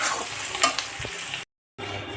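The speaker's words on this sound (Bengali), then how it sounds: "গাজর ক্যাপসিকাম আর পেঁয়াজ আমি ভাজা করছি" Carrot, capsicum and onion sizzle steadily in hot ghee and oil, a dense frying hiss with a brief stir clink, cutting out abruptly before resuming.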